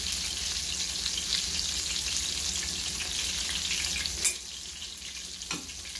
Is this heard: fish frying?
yes